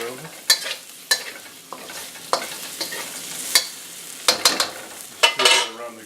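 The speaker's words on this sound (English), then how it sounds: "Stir that around the garlic a little bit." Previously fried beef sizzles in a pan with garlic while a utensil stirs and scrapes it, sharp metallic clacks recurring every half second or so over a steady, close frying hiss.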